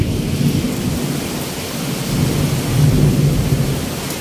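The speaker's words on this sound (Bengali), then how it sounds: "আর এত সুন্দর বৃষ্টি হচ্ছে না" Heavy rain pours during a rainstorm, a dense, loud roar of downpour with low rumbling swells that grow stronger toward the end, and no voices.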